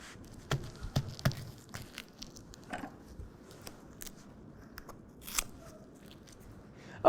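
Adhesive hook and loop strips for a RealTruck RetraxPro FRC-4000 retractable tonneau cover being snipped with scissors, several sharp close cuts and crunches scattered over quiet handling noise, fairly faint, no talk.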